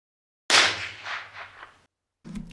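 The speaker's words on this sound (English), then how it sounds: "So let's shoot an apple." A single sharp gunshot fired at an apple for high-speed photography cracks loudly and decays over about a second, followed by a brief clatter.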